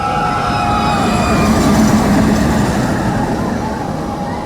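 A theme-park ride train rolls past at Disney's Animal Kingdom, a loud continuous rumble with steady mechanical whine and rattling wheels, close by and sustained without a break.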